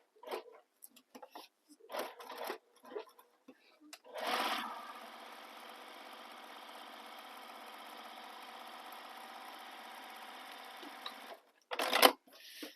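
A sewing machine top stitches a Chanel-inspired classic bag, whirring in one long steady run near the mic, with short bursts and a final burst framing it amid brief speech.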